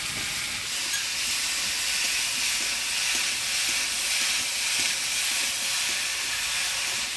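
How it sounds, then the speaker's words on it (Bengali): Poya fish is stirred with turmeric and salt in hot oil alongside potatoes and taro stems, producing a loud, even, steamy hiss with faint stirring scrapes underneath and no voices. "হলুদটা আমরা ভালো করে নাড়াচাড়া করে নিলাম"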